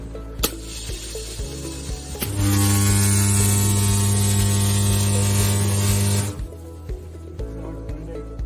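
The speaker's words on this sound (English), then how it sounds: "See welding taking place." A 100 kVA Electroweld pneumatic rod butt welder welds steel rod, producing a loud, steady electrical buzz and hum that lasts about four seconds, with mechanical clicks and clunks before and after.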